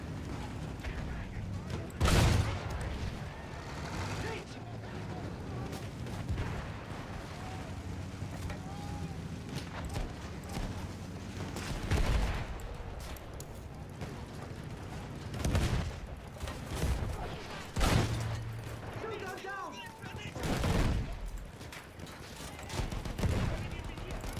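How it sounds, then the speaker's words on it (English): Machine gun fire in the Battlefield 1 video game comes as scattered bursts and bangs over a busy, mechanical battle din, with voices talking throughout. "machine gun!"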